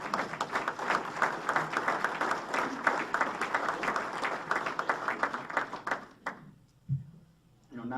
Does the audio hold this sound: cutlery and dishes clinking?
no